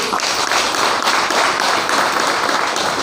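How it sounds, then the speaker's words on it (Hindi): A seated audience at a DXN India gathering in Ranchi breaks into dense, steady clapping, loud and close, filling the whole stretch with no voices on top. "ज़बरदस्त ताली होनी चाहिए"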